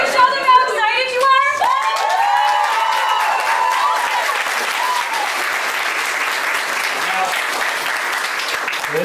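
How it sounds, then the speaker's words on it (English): Audience at a children's theatre camp show bursts into loud applause with cheers and children's shouts, sustained clapping filling the room, mixed with voices. "That clap was great."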